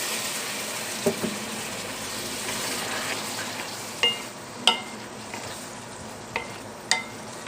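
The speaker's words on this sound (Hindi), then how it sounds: "इसको अच्छे तरीके से भून लेते हैं।" Tomato paste frying in a pan, a steady low sizzle broken by a few sharp spoon scrapes and taps against the pan as it is stirred, close and moderately loud.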